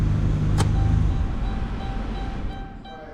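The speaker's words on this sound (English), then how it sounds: "blower motor shuts off." Blower motor in a 2015 Dodge Grand Caravan shutting off, a steady whirring hum inside the van that winds down after a brief click, leaving a quieter cabin with faint tones.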